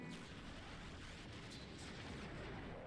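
A continuous, roaring rumble of explosions fills a battle in the video game Final Fantasy Crystal Chronicles, dense and unbroken at a steady level throughout.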